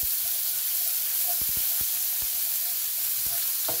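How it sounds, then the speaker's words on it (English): Garlic and fresh chilies sizzling over low heat in a pan, a steady hiss of frying broken by a few soft knocks and scrapes as a utensil stirs them. "I'm just adding just a little bit of fresh chilies, and I'm gonna go ahead and give it a good mix."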